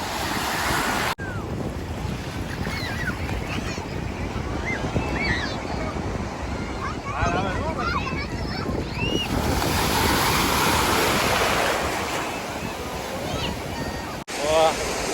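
Sea surf rolls onto the shore at Mahuva, a broad continuous wash of breaking waves with steady wind noise buffeting the microphone, and people talking over it throughout.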